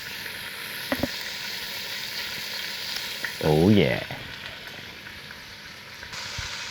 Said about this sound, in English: I just want you to hear that sizzle.